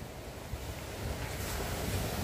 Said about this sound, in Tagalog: tapos naririnig mo yung alon